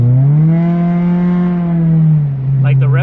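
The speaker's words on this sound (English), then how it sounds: "the revs go up and it doesn't accelerate. It's like the clutch is not gripping on anymore" An Acura RSX engine with a slipping clutch drones at high, steady revs that rise slightly without changing pitch much, then briefly dips before holding again.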